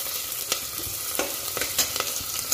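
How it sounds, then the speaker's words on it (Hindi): Onion and garlic frying in ghee, a continuous close sizzle punctuated by repeated scraping and stirring strokes at an uneven rhythm, with no talking. "लहसुन और प्याज घी में भून रहा है"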